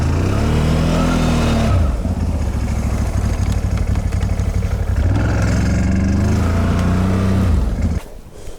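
A snowmobile engine roars and revs loudly and steadily, its pitch rising and falling in surges, then cuts off abruptly near the end.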